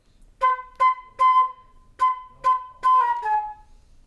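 A flute plays one measure, seven clear separated notes in a short phrase, the last two running together and fading, with no talk over it.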